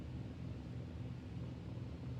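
A low, steady P-40 fighter plane engine rumble in War Thunder, throttled down, drones on without words, a muffled aircraft hum holding fairly constant with slight wavering in level.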